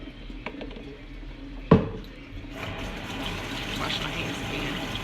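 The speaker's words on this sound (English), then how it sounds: "Wash my hands again. Just rinsing right quick." A kitchen tap is turned on with a sharp splash, then water runs steadily while hands are rinsed under it, close and moderately loud.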